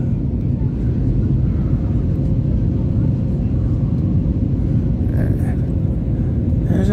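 Steady low engine rumble fills the cabin of a Frontier Airlines passenger plane in flight, a constant loud drone with no break, heard alone.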